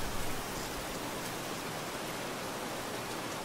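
Heavy rain pouring down in Aliens: Dark Descent, a dense, even hiss of downpour that stays loud and unbroken throughout, with no voices.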